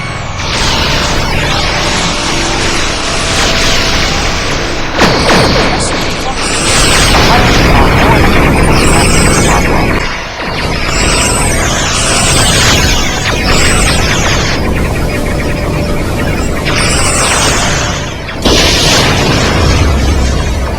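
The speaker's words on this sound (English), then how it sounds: "All weapons fire at will." Starship weapons fire and explosions rumble through a Star Trek space battle against Vaadwaur cruisers, a loud continuous barrage of booming blasts and high zapping bursts that goes on without pause.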